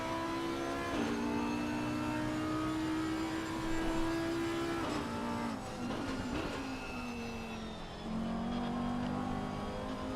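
A GT race car in a racing sim laps Imola with its engine droning loud and close, the pitch stepping through gear changes while traction control chatters and cuts the revs in rough bursts.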